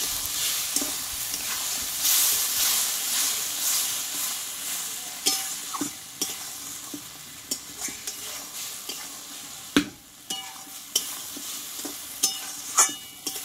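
Masala paste with a splash of water sizzles and fries in a pan for a Bengali vegetarian ridge gourd curry, a steady hiss broken by sharp spoon scrapes and taps against the metal, close and clear with no talk.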